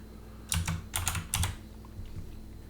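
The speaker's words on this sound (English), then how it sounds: "So I'm just going to type in elevator," Typing on a computer keyboard, a few short bursts of close key clicks in quick clusters, then quieter taps trailing off, no speech.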